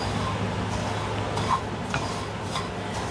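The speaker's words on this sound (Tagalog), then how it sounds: "dito sa ating pan, maglalagay tayo ng 1 cup ng desiccated coconut" Desiccated coconut tossed and stirred in a hot, dry pan while toasting, giving soft scraping and light clinks of utensil against the pan, close and steady with no talk.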